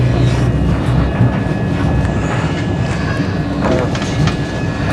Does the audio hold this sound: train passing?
yes